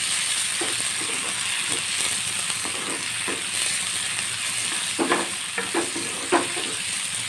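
Onions and tomato frying in a pan under a constant soft sizzle, with intermittent scraping clicks of a spatula stirring, a few louder knocks near the end.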